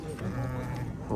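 Goats bleat at a livestock market, a short wavering bleat rising over crowded market murmur and background voices, close by.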